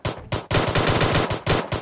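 Sniper rifle gunfire in the mobile game PUBG Mobile comes as loud, close shots in quick, rapid bursts with short gaps between them.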